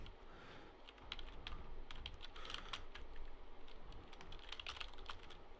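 Fingers type on a computer keyboard in quiet, irregular bursts of soft clicking keys, close and continuous for several seconds with no talking.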